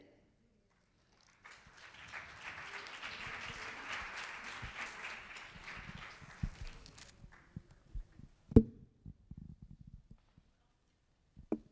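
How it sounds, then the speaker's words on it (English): Audience applause at an energy storage and green hydrogen roundtable, a burst of clapping lasting about five seconds before fading into scattered claps, footsteps and a few sharp knocks. "Let us have an applause for ma'am."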